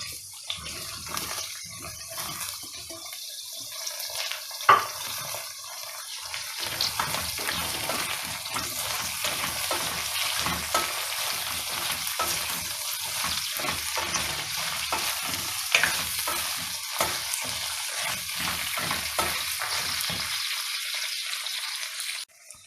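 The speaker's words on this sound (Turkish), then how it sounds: "Şimdi fasulyemi ekleyeceğim. Biraz sararana kadar bunu da kavuracağım." Green beans sautéing in a pan with onions and peppers, a steady close sizzle and frying hiss with frequent stirring scrapes and clatters, one sharp utensil knock near the start, no voices.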